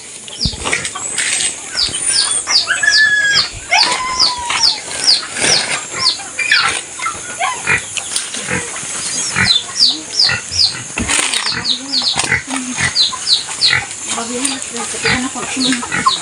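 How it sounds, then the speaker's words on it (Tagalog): Pigs just outside a house keep up a steady stream of loud grunts, snorts and squeals. Scattered bird chirps and fluttering mix into the close, busy farmyard noise. "Kay baboy di luar dia."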